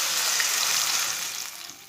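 A cup of water hits a hot pan of lightly browned onions, giving a loud, bright hiss and sizzle that starts at once and then slowly fades over a couple of seconds.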